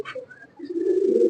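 Pigeons coo in a bird market in Hyderabad, a soft low throaty call swelling up close after a short higher chirp, with no talk over it.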